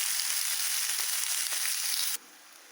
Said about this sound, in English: So I'm just giving it a quick sear